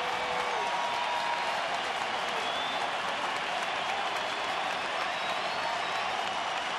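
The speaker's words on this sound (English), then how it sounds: "Crowd getting into it a little bit now." A baseball stadium crowd cheers and applauds in a dense, steady roar of clapping that holds at an even level throughout, with no break or lull.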